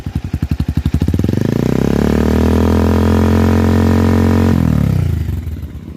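Rouser 180 motorcycle fitted with an Akrapovic M1 exhaust: a lumpy idle climbs into a steady, loud, buzzing rev that is held for a few seconds and then drops back. Close and alone, with no talking.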